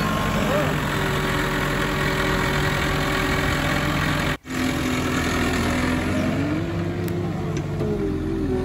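A CAT 307D excavator's heavy diesel engine idles steadily, a continuous low rumbling drone with a brief dropout partway through.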